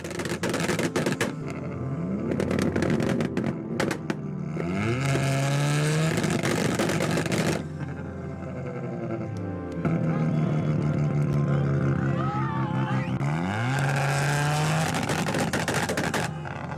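Mazda RX-7 FD with a 1.3-liter twin-turbo 13B-REW rotary engine revving loudly, its pitch sweeping up and down through several gear-like rises, close and continuous with sharp crackles at the start.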